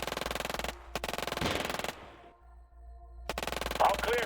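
Units in the strategy game Shadow Empire fire rapid machine-gun bursts in fast, evenly spaced rattling volleys, broken by a short pause and then resuming loudly, with a brief voice over the shooting.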